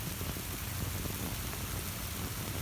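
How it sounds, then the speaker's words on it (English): Steady rain falls on an early-summer kitchen garden, a dense, even hiss of drops on leaves and soil that fills the whole moment without pause or talk. "and now it's raining."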